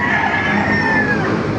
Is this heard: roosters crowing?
yes